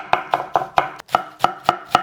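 Cabbage being chopped with a kitchen knife using a pushing stroke, eight or nine crisp, evenly spaced cuts against a board, close and clear with no talking.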